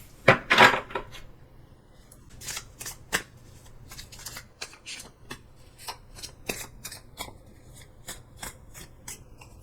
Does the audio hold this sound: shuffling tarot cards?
yes